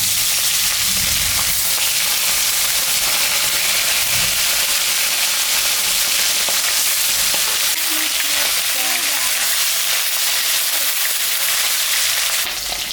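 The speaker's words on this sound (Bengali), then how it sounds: "আমি এখন মাছটা ভাজছি।" Foli fish, salted and coated with turmeric, fries in hot mustard oil with a loud, continuous sizzle and crackle, steady throughout and close, with no talk over it.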